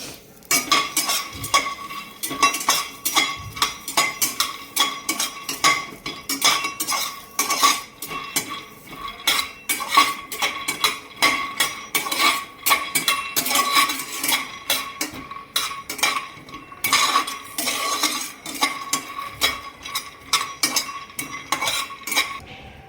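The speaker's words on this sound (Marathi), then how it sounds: "आता भाजून घेऊ शेंगदाणे थोडेसे।" Peanuts dry-roasting in a pan without oil rattle and clatter continuously as they are stirred, a dense, fairly loud, busy clinking and scraping that runs throughout with no voices.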